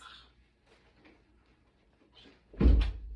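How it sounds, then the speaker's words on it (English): An indoor door pushed shut, a few faint shuffles and knocks followed by one loud, close thud near the end. "Shut the door, please."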